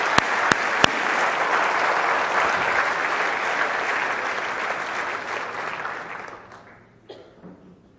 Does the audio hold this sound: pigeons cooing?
no